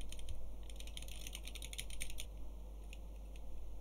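Rapid close clicking of computer keys runs in a dense burst, then thins to a few scattered taps over a steady low electrical hum, with no talking.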